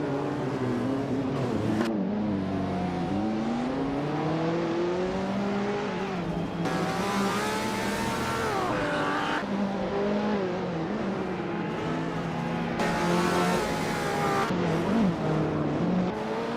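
Race cars in a racing video game roar continuously, their engines climbing and falling in pitch as they rev and accelerate, with occasional whooshes of cars passing close by.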